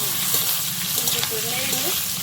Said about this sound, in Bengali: আলুটা আগে দিয়ে একটু ভেজে নিই তেল দিয়ে।